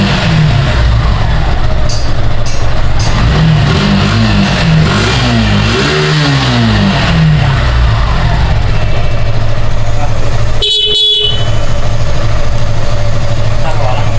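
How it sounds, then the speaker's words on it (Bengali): A motorbike engine, repaired after accident damage to its body and wiring, runs loud and close, rising and falling through several revs before cutting briefly and picking up again into a steady run. "এখন আমরা বাইকটাকে স্টার্ট দিয়ে দেখবো বাইকটা ঠিকঠাক মতো ওয়ার্ক করছে কিনা"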